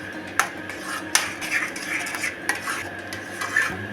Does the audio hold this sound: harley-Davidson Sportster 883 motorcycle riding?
no